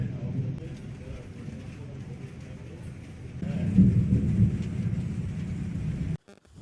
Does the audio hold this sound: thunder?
yes